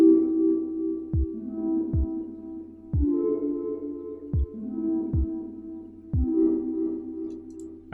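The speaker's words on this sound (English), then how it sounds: "like a trappy kick sound" Deep booming synthesized trap kick drums made in Ableton Live hit in an uneven pattern, each with a short pitch drop, over a sustained low synth tone.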